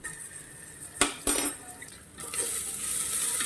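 Chopped onion frying in a pan, with a soft continuous sizzle broken by a couple of sharp metallic clinks of a spoon against the pan while it is stirred.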